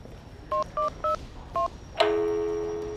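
A telephone number being keyed in, five short evenly spaced touch-tone beeps, then a steady ringing tone that begins and holds. The sound is clear and quiet, with no talk.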